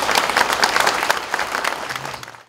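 A church congregation at a memorial service for former president Park Chung-hee breaks into dense, lively applause that gradually tapers off over a couple of seconds.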